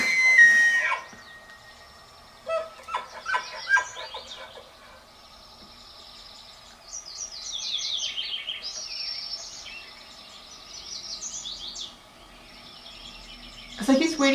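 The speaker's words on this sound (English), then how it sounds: "Oh, we're going to hear the birds first." Wild birds call outdoors with faint, scattered chirps and whistles that come in intermittent bursts, sounding distant against a quiet background with no talking.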